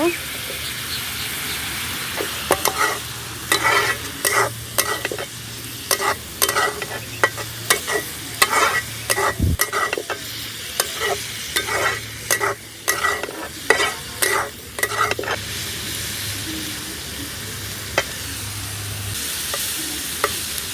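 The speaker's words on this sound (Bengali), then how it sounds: "এখন আমি কাঁচামরিচ দিয়ে দিব।" Green chillies tossed into banana flower (kolar mocha) frying in a pan, with steady sizzling and repeated scraping stirs of a spatula throughout, close and fairly loud, a low hum running underneath.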